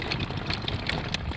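A compressor station engine rattles and chugs steadily, a dense mid-to-low mechanical drone with fast knocking pulses, loud and continuous outdoors.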